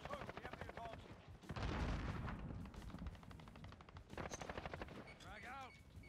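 Rapid automatic gunfire and heavy shooting in a video game shooter, dense bursts of rattling shots with a loud booming stretch, mixed with other game effects and faint voices underneath.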